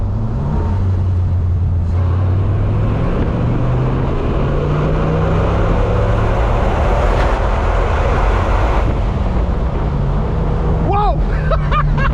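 A Dodge Viper engine rumbles loudly from inside the car, a deep drone with pitch rising and falling as it accelerates, while people talk over it.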